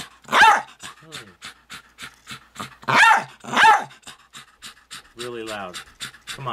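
A working dog pants loudly and close by, its rapid breaths broken by a few short barks, while a person talks over it.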